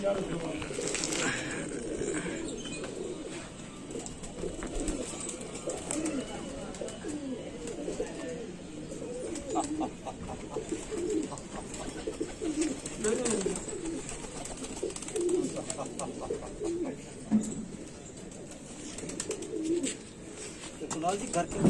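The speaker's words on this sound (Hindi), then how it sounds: "बड़े ही कमाल के कबूतर हैं" Pigeons coo softly from a rooftop loft among fancy breeds such as golden, teddy and dub-wale birds, a low murmuring coo recurring under steady outdoor noise, with people talking nearby.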